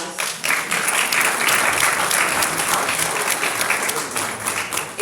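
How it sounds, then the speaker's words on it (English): Sustained round of audience applause at a candidate forum, loud, dense and even throughout with no speech over it. "could we just give Jennifer a round of applause?"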